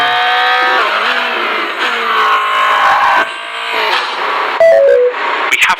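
A Formula 1 car in a racing video game at the Bahrain circuit, its engine holding a loud steady whine that sags and wavers as the tires lock up under braking, ending in choppy bursts and a couple of sharp clicks.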